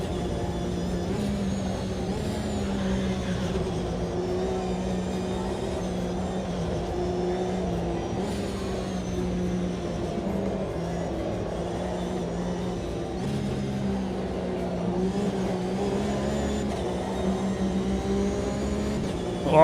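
Race cars in the Automobilista 2 sim racing game roar steadily throughout, a continuous layered engine drone with shifting pitch as cars run close together in a slipstream battle, no voices.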